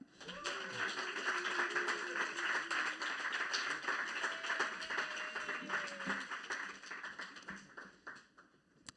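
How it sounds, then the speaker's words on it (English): Clapping from an audience after a presentation at a WordHack poetry and tech event, a sparse scatter of fairly quiet hand claps with a few voices and whoops underneath, tapering off toward the end. "Please clap."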